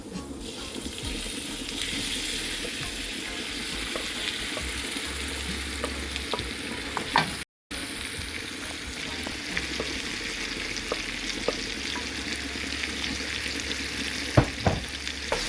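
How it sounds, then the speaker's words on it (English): Shrimp frying in a pot of curry on the stove, a continuous close sizzle with occasional stirring scrapes and a brief gap partway through. "now I'm going to add my shrimp to the pot"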